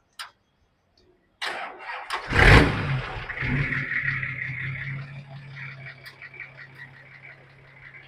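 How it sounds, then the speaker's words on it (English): A Nissan Patrol's 4.2-litre inline-six diesel engine cranks briefly, catches with a loud burst, then settles into a steady, smooth idle rumble that continues to the end. "I'm going to crank it up and we'll let it settle to the idle"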